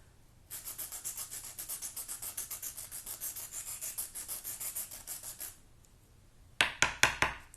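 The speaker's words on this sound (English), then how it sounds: "And then you can use your sandpaper to then sharpen it further." Graphite pencil lead rubbed back and forth on sandpaper to sharpen it, a steady run of close, even scratchy strokes followed by a few sharp knocks at the end.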